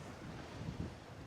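Wind gusts buffet the microphone at the Kona seaside in Hawaii during sunset, a steady low rushing roar with a brief stronger gust near the middle, and no voices.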